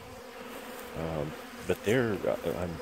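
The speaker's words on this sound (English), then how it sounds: "There's quite a frenzy going on here, see? Got bees everywhere." Honey bees swarm around a hive with a steady, dense buzz filling the air while someone talks over it.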